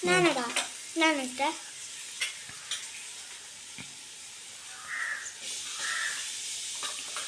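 Ginger garlic paste frying in a hot pan, a continuous close hiss with light stirring, while voices and a crow's caws come through early on.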